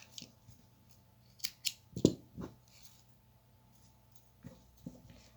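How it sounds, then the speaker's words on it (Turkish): Scissors snip through yarn during a crochet flower project, giving a few sharp, close cuts in quick succession with quiet gaps between them and no talking. "Arkadan da ipimi biraz yürütüyorum ve kesiyorum."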